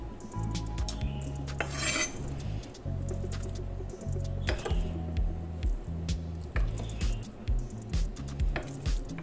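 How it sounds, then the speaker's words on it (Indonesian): A knife slices through a block of tofu on a cutting board, producing soft repeated squishy cuts and light taps in a steady rhythm, close and moderately quiet, with no voices. "Lalu tahu ini akan saya iris seperti aja."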